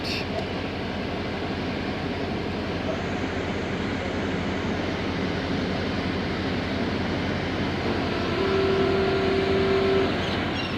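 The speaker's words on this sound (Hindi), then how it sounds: "10:34 पर ट्रेन रवाना हो चुकी है दोस्तों करोड़ रेलवे स्टेशन से" Thal Express passenger train pulling out of Karor railway station, a steady low rumble of wheels and engine at moderate distance, swelling slightly toward the end with a faint sustained tone.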